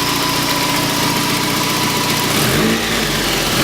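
A 1.6-liter NA Mazda Miata engine idles steadily with a constant mid-range hum and vibration, heard close up from underneath the car, with a slight rise in low rumble near the end.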